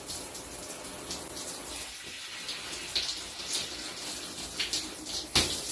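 Tap water runs steadily while a sugar scrub container is rinsed at a sink, a close continuous splashing gush with occasional louder sloshes as the container moves under the stream.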